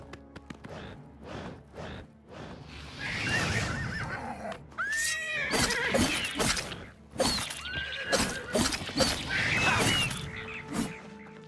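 Horses in the video game Oblivion whinnying and snorting several times over clip-clopping hooves, close and fairly loud, with short bursts of galloping between the calls.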